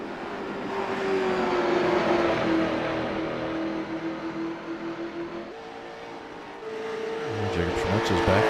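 Late model race cars roar around the paved Milwaukee Mile oval as engine tones rise and shift in a sustained, fairly loud drone, with a commentator talking over the track noise.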